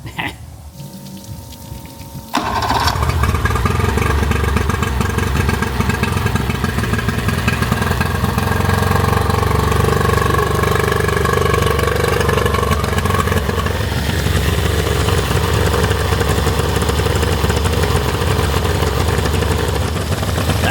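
A 2-stroke outboard motor on a hose flush during a DIY service. After a short quiet stretch with running water, the engine starts abruptly and then runs loud and steady for the rest of the clip, with water splashing underneath.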